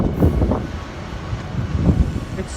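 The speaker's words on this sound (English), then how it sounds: "It's so windy." Strong wind from Hurricane Irma roars steadily and close against the microphone, with low gusty rumbling surges throughout and no speech.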